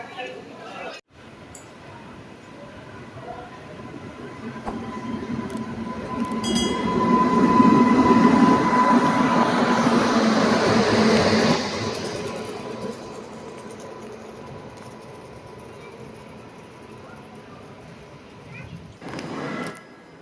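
Special express train 03466, Digha to Malda Town, pulling out of platform 3 at Digha station: a rumbling roll of wheels and carriages builds to a loud peak mid-clip, then eases off, with a faint horn tone and crowd murmur.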